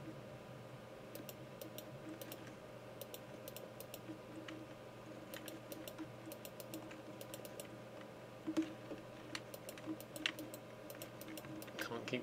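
Arrow keys on a computer keyboard being tapped in quick bursts of light clicks, with scattered single presses, close and fairly quiet over a steady low background hum.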